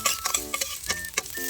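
Meat sautéing in a pan with spices and lemongrass for tinola, a crackling sizzle with stirring scrapes and brief clicks, close and steady with no talk.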